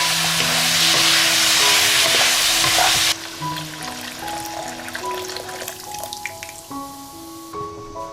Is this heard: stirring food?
yes